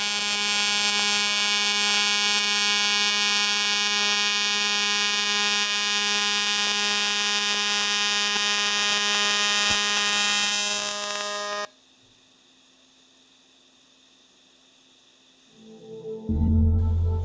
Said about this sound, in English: Here we are doing a pulsed aluminum TIG weld on an outside corner